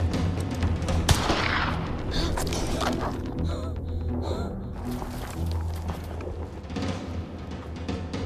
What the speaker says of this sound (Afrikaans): Skiet 'n skoot af wat ek kan hoor waar jy is.